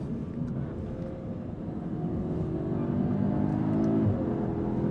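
Turbocharged four-cylinder engine of a 2025 Audi S3 accelerating on the road, a steady droning hum that gradually rises in pitch and loudness, heard from inside the car with no talking.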